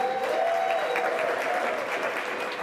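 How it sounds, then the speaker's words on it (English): Audience applause at a community event on shrinking safety nets in Franklin County, Columbus, a steady crowd clapping that fills the whole stretch at fairly even loudness, with no one speaking over it. "Was that your table doing all the applause"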